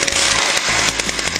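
A Jiffy power ice auger's small two-stroke engine, started at full choke with the throttle cable held down, roars loud and continuous with a rough, buzzing chainsaw-like tone and brief choppy dips.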